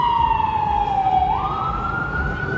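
A loud emergency vehicle siren sounds on a New York City street, its tone sliding down and then switching up again above a low traffic hum.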